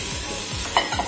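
Onion and garlic frying in a pan for chili sin carne, giving a brief close sizzle with soft stirring scrapes and a couple of light clinks.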